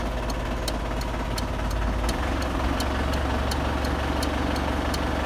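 A car engine idles steadily with a low rumble and a regular ticking knock, alone and fairly close.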